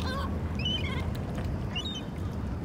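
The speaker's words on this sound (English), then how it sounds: "God, these Canadian geese are crazy." Canada geese honk in a city park under a bridge, a few short nasal calls in two clusters, moderately distant, over a steady low rumble of traffic and wind.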